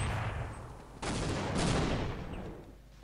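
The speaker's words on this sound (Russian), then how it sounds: "Сейчас должен Фокс выстрелить в ломобота" Gunfire in a competitive video game match at the ASUS Cup 2011, with a sharp burst of shots, then a second volley a moment later, fairly loud against a steady noisy game background.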